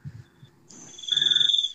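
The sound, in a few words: cricket chirping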